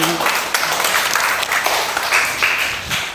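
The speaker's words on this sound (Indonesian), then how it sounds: "Beri aplaus" Applause from students in a micro-teaching classroom session, a steady crackle of many hands clapping together for about three seconds, fairly loud and close with a faint murmur of voices.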